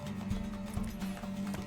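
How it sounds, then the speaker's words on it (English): A horse in The Witcher 3 plods with steady clip-clop hoofbeats at close range, a low rhythmic thud every half second or so over constant game ambience, with no talking. "Want that horse, don't ya?"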